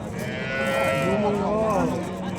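A piebald cow being sold at the Shahrixon livestock market gives a drawn-out, wavering low call that rises and bends in pitch, sounding fairly close over the faint background murmur of the market.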